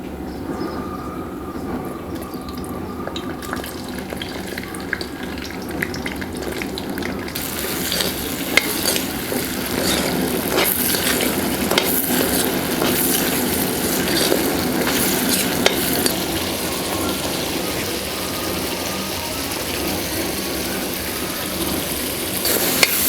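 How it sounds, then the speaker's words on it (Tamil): Chopped onions go into hot oil for chicken chindhamani. A soft background gives way partway through to a loud, steady, broadband sizzle that carries on to the end with light stirring noises. "அடுத்தது எண்ணெய் சூடானதும் நம்ம கட் பண்ணி வச்சுருக்க வெங்காயத்தை சேர்த்துக்கலாம்."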